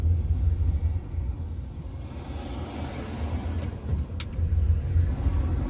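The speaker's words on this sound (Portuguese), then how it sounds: "Deixar o carro passar." A car rolls past on a street in Sorocaba, Brazil, a low steady rumble that swells, eases off midway, then builds again, fairly close, with faint clicks and no talking.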